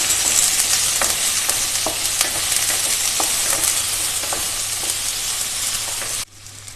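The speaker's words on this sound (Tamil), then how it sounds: "இந்த வெங்காயம் ஓரளவுக்கு வதங்கட்டும்" Chopped onions and curry leaves sauté in a pan for a curd kurma, giving a steady close sizzle with soft scraping stirs that ends abruptly near the finish.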